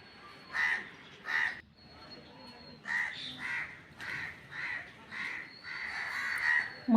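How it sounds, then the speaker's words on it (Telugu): Crows caw from a tree where birds are nesting: a run of about eight harsh, fairly close calls spaced irregularly against a quiet outdoor background, with no speech. "మా చెట్టు పైన అయితే పక్షి అయితే గూడు పెట్టేసిందండి."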